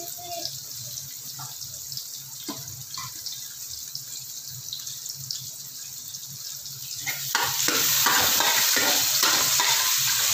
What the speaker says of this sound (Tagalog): sibuyas lang ang ating ginigisa